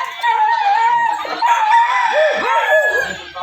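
A dog just after castration howls and whines in loud, wavering cries that rise and fall close by.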